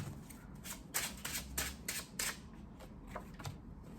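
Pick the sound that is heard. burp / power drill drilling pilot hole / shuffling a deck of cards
shuffling a deck of cards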